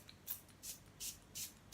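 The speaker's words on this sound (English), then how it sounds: "I'm now going to spray my beautiful Archangel Chamuel spray" A spray bottle is pumped about five times in a steady rhythm, each short, bright hissing spritz close and fairly quiet with no talking.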